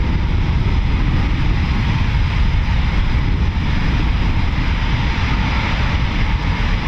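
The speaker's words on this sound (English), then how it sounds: "So 3 more Typhoons ready for departure." Eurofighter Typhoon FGR4 jets at RAF Coningsby preparing for departure, a steady loud roar of jet engines with heavy low rumble, continuous and unbroken, no voices.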